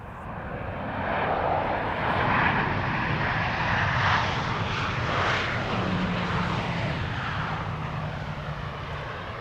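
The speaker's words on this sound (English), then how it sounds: "Emirates Flight 147 arriving from Dubai, 6 hours and 34 minutes on the way." An Emirates airliner arriving on the flight from Dubai at Amsterdam Schiphol Airport gives a loud, steady, broad engine roar that swells early and then holds, with no one speaking.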